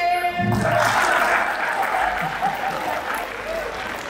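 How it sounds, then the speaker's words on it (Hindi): Audience applause at a mushaira and kavi sammelan poetry recital in Pune, a dense burst of clapping starting right away and tapering slightly while lasting to the end, with a faint voice briefly at the start. "तालियां बजाइए"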